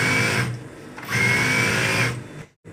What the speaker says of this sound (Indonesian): Dan langsung saja kita jahit, gabungin si badan belakang sama badan depannya.